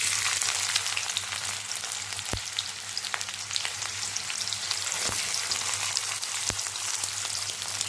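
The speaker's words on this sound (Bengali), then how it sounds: "তেল গরম হয়ে গিয়েছে, আর এখন আমি এর মধ্যে ছেড়ে দিচ্ছি আগে থেকে কেটে নেওয়া পেঁয়াজ।" Chopped onions fry in hot mustard oil with a steady, close crackling sizzle, broken by a few sharp knocks of a utensil against the pan. No one speaks.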